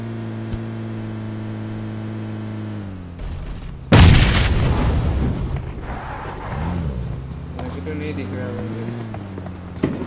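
A single loud, booming shot bursts out over steady game music and a voice, followed by noisy rumbling decay.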